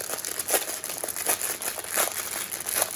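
Close-up crinkling of a plastic bag, with bursts of crackly rustling rising and falling in quick irregular pulses, no voices.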